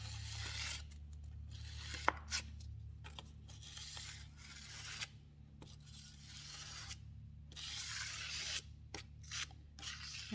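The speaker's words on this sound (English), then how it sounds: "I'm just putting a little bit of it here on this piece of plastic to run it across the piece. And I'm just going to start scraping." A plastic scraper spreads embossing gel across a piece of old furniture in quiet, repeated rasping strokes, each pass a soft scraping burst separated by brief pauses over a low background hum.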